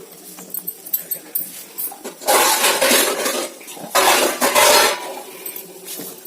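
Food scraped from a pan into a bowl in a home kitchen, with repeated clattering and scraping of metal utensil against cookware in bursts, near and fairly loud.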